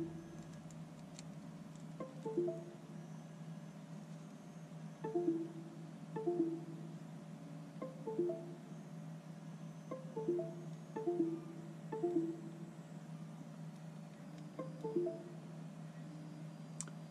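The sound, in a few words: PC sound of erratic Vivitar card reader repeatedly connecting and disconnecting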